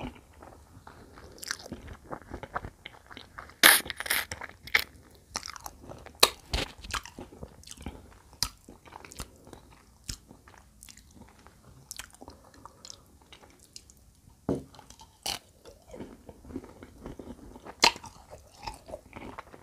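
Wild tamarind (makham mu) being bitten and chewed up close, repeated crisp crunches and bites with wet mouth sounds and rustling between them, no talking.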